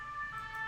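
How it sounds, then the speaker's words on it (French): An emergency vehicle siren passing in a street, faint and distant, its steady high wailing tones sustained through a very short moment with no talk. "saluée par une sirène inutile comme d'habitude"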